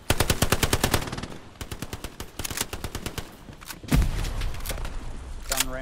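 Rapid bursts of machine gun suppressing fire in the World War II shooter Hell Let Loose, loud and close, with a sharp explosion-like hit near the middle and a brief pause before another burst.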